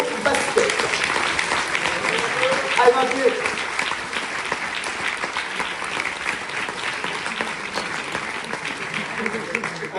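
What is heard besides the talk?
audience applauding U18 basketball team at awards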